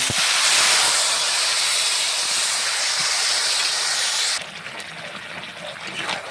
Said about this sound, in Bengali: এখন আমি ডাটা দিয়ে দিচ্ছি